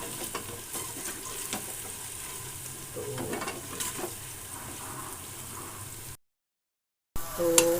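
Onions frying until golden for beef paya make a close, continuous sizzle with occasional stirring scrapes; the sound drops out briefly near the end, then resumes.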